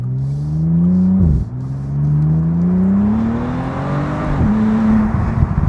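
Bentley Continental GTC Speed by Mulliner accelerating hard, a close engine note climbing through gears with two quick shift dips before rising again.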